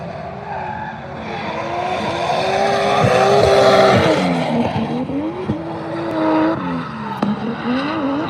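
Drift car at Ebisu Circuit in Japan during autumn drift practice and qualifying: a loud, sustained engine roar with rising and falling revs and squealing, skidding tyres, close and continuous for several seconds, with no talk.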